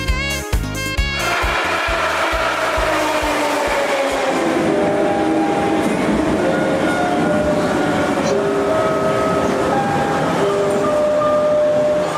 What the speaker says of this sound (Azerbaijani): Elə ki, qatar stansiyaya çatdı